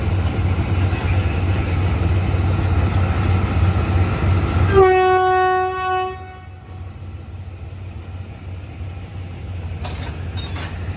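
A GEK diesel locomotive at a Thai railway station gives a loud, steady engine rumble, then sounds one sustained horn blast, and its engine keeps idling nearby.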